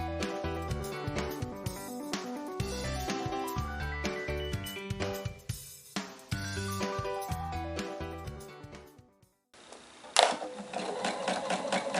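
Stitching on a domestic sewing machine through the layered seam of a fabric bowl buddy, with stitches locked at the end: a close, continuous rapid hum with brief slowdowns, a short pause, then a clink and a final burst.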